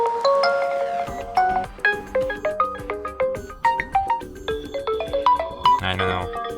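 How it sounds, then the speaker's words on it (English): A series of melodic system ringtones on an OPPO Reno6 Pro 5G phone, each a short bright chiming tune that plays in turn, clear and close with no talking. "You can just select one of these system ringtones."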